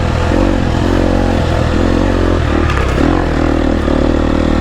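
A GasGas EX250F dirt bike runs steadily close by, its engine note holding with slight rises and falls, and brief clattering scrapes break in about two-thirds of the way through.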